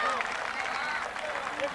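A crowd applauds parachutists as they land during the final of the 1988 junior sports championship in Congo, with a steady, dense wash of clapping and murmur throughout.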